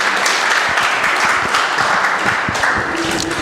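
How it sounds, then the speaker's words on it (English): A live broadcast audience breaks into sustained applause, many hands clapping densely and evenly at close range for the whole stretch. "He deserves that resounding clap that you give him"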